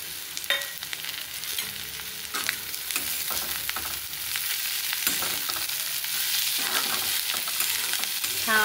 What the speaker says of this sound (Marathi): इथे आपण आता ही मिरची टाकूयात